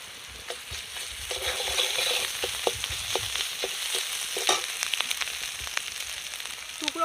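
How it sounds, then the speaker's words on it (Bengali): Onion frying with ginger-garlic paste for a village-style crab curry, a continuous close sizzle broken by scattered crackles and spatula clicks, no talking. "পেঁয়াজ টমেটো আদা রসুন আমার একসাথে ভালো করে ভেজে নেওয়া হয়ে গেছে।"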